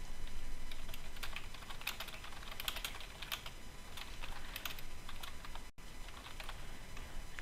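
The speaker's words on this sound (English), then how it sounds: "can actually just type it in here as a title for the document." Someone types a document title on a computer keyboard, producing a quick run of light, close key taps with a brief pause partway through.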